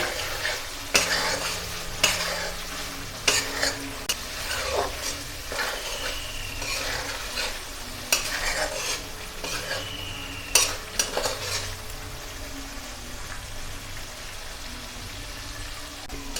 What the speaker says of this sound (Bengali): আলুগুলো দিয়ে ভালোভাবে নেড়ে মশলাটা আলুর সাথে মিশিয়ে নিয়েছি